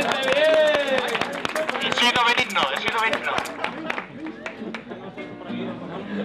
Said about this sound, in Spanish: un fuerte aplauso para Vicente